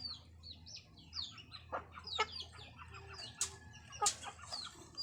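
Several chickens cluck and chatter nearby in short, irregular calls, with occasional sharper squawks over a quiet background hum.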